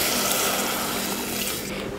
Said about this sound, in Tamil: இப்போ இதில் தண்ணி ஊற்றிடலாம்.